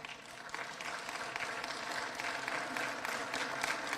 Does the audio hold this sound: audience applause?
yes